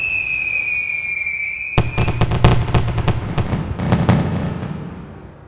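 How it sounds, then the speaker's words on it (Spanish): Virtual fireworks in the FWSim simulator game: a rising whistle first, then a rapid run of sharp, crackling bursts and pops that echo over several seconds. "el review corto del FWSIM, excelentísimo programa de simulador de fuegos artificiales"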